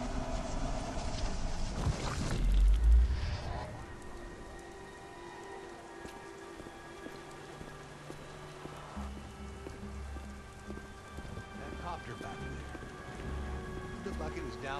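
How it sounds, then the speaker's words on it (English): Rain in the video game Beyond Two Souls patters steadily on surfaces, with a heavier swell early on that fades to a quieter continuous drizzle under low game ambience. "Goddamn rain."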